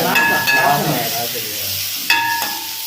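Sliced onions and green chillies sizzle in a hot pan in a Jaffna home kitchen, loud close frying hiss with a couple of sharp metallic ladle scrapes and taps.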